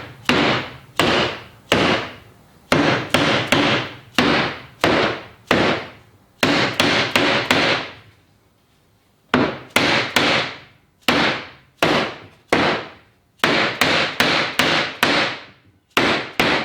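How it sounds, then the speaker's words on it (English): Hammer blows tap a wooden tenon into a mortise joint for a cabinet face frame, landing as close, sharp knocks in quick bursts of several strikes, with a brief pause midway and no talking. "this is where I need to be gentle when I tap this in because I can break that off"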